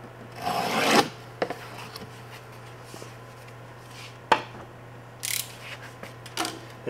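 A sharp knife scoring a line in plywood along a held straight edge, heard as a few short, scratchy rasping strokes separated by quiet pauses, with faint handling clicks in between.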